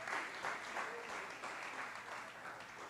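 A church congregation applauds a man about to give his testimony, with sustained, even clapping from many hands heard at a moderate distance and no voices over it.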